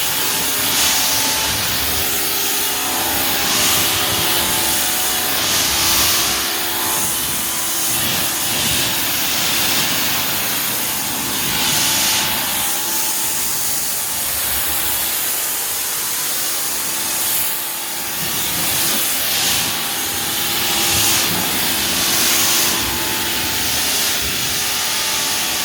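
Water spraying and rinsing soap off car paint, a loud steady hissing rush that swells and eases slightly as the spray moves across the surface, continuous with no talk.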